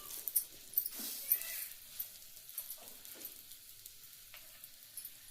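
Pav bread toasting on a hot griddle for street-style pav bhaji, turned from side to side: a quiet, faint sizzle with a few soft scrapes and light knocks as the buns are flipped.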